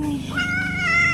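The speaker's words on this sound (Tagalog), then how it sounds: "Oh, may pusa rin sila diri." A cat giving one long, rising and drawn-out meow, loud and close, with no talk.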